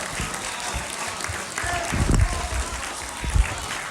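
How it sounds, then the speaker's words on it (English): An audience bursts into applause for Imam Mohammed Asi, a short round of clapping from a crowd at an evening speech, rising briefly to a peak and fading. "Let's give him a round of applause."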